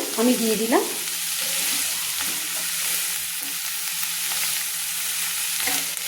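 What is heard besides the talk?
chopped tomatoes frying and stirred with vegetables in pan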